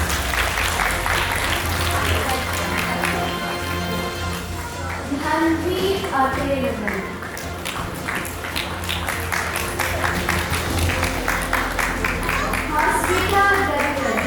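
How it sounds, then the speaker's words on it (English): An audience claps for the winners of a Gita chanting competition at an award ceremony, sustained applause filling the room while a voice announces names over it. "Let's give them a massive round of applause."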